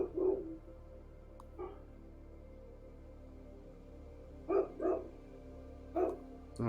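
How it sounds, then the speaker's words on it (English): A dog barks somewhere in the background, several short, faint barks spaced apart over a low steady hum. "I don't know what the hell my dog is barking at."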